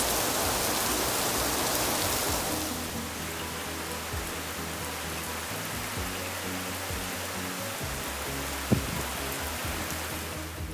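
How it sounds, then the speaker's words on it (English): Steady rain pours down outside, a dense broadband patter filling the scene, with a single sharper tap near the end. "I just realized that it was raining outside"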